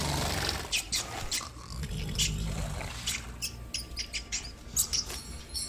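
A rat squeaks in The Witcher 3: The Wild Hunt, with faint, short high chirps scattered over quiet game ambience, close but soft and with no speech.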